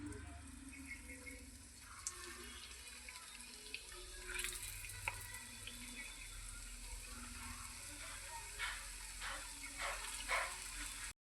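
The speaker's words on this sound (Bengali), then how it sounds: "তেল বসিয়ে দিয়েছি, তেলটা আমার গরম হয়ে গেছে, এবার লঙ্কার চপগুলো ভেজে নেব।" Chilli fritters (lankar chop) fry in hot oil with a steady, soft, continuous hiss, with faint crackles and a few brief louder pops scattered throughout.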